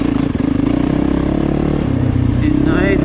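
A Yamaha YZ450FX dirt bike engine runs steadily and loudly up close near Lake Arrowhead, a continuous rough pulsing throb with faint clatter.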